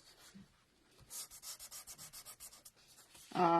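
Sandpaper rubbed by hand during a paper-crafting demo, a run of about a dozen quick, even scratchy strokes in a steady rhythm, close and clear, with quiet gaps around them.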